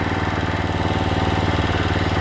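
A greenkeeping mower engine runs steadily up close, a loud, even throbbing drone with no speech.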